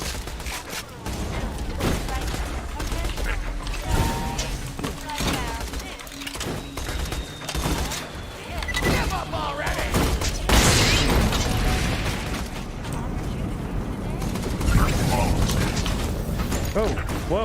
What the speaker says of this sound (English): Somebody's popping rounds.